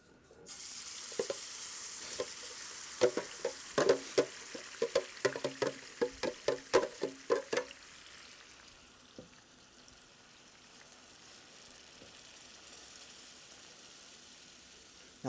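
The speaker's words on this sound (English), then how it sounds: "put that right into our hot saute pan" Bread-coated pork hits a hot sauté pan with a steady frying sizzle, marked early on by a burst of sharp clatters and taps, then settles into a continuous hiss that fades slightly toward the end; no one speaks.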